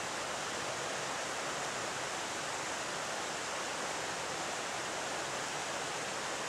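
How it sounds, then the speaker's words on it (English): Steady rushing water flows without pause, a dense, even wash of sound from a nearby river. "So I'm going to sit here and listen to the river."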